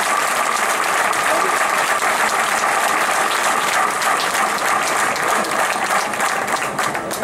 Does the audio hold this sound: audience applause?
yes